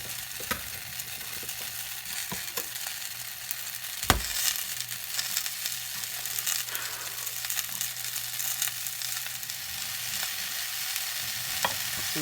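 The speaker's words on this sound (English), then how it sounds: "I'm going to toss in more garlic now." Fresh garlic tossed into a hot pan sizzles steadily while being stirred for a beans and rice dish, with one sharp utensil clank partway through.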